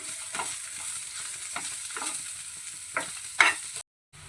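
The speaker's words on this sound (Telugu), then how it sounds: "పావు చెంచా అల్లం వెల్లుల్లి పేస్ట్ వేసుకోవాలి పావు చెంచా పసుపు అర చెంచా కారం వేసుకోవాలి ఇదంతా బాగా కలుపుకోవాలండి" Ginger garlic paste, turmeric and chili being stirred in a hot pan, giving a steady sizzle with a few scraping strokes of the spoon, close up, before a sudden cutoff at the end.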